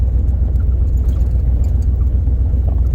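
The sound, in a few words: Camaro engine running after spark plug and FiTech work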